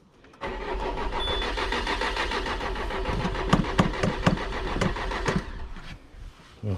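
A 2.0 HDI diesel engine with air in its fuel system cranks over, the starter whirring steadily for several seconds with rhythmic compression pulses building midway. The engine does not catch and the cranking stops near the end.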